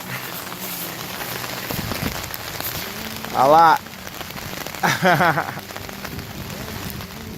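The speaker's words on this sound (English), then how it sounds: "It's raining." Steady rain patters densely on a surface on a small lagoon island campsite, a continuous hiss throughout, while a person briefly speaks over it a couple of times.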